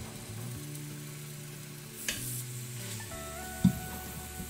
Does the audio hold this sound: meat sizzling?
yes